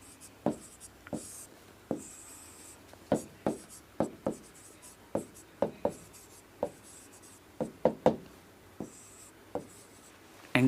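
Chalk or marker writing on a classroom board during a biology lesson, heard as a close, irregular series of sharp taps and short strokes spaced about half a second to a second apart, with no speech over it.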